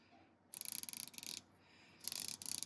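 Snap-on FHL80 long-handled comfort-grip 80-tooth ratchet clicking in two bursts of fine, rapid clicks, close and crisp, with a pause between them and no talk.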